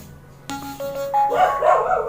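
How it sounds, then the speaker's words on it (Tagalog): A dog barks a few times, close by and sharp, while an electronic chime of rising tones sounds at the same moment. "Isabay pa yung aso ng kapitbahay."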